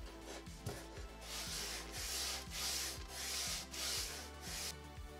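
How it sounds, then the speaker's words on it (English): Sandpaper rubbing back and forth along the styrofoam leading edge of a model plane wing, a close, regular scratchy rasp at about two strokes per second, with no voices. "I then trimmed the leading edge of the wing at an angle and sanded it even."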